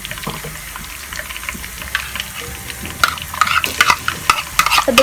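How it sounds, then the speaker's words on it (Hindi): Ginger and garlic fry in a pan with onions and cumin for dhaba-style chana dal, giving a soft sizzle that gives way to louder scraping and clattering stirring strokes in the second half. "1 मिनट के लिए हम अदरक लहसुन को फ्राई करेंगे।"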